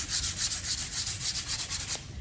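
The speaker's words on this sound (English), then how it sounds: "take your sandpaper and just lightly sand" Sandpaper rubs lightly over the background of a wooden craft board in steady back-and-forth strokes, a close, even scratchy rasp that pauses near the end, with no talking.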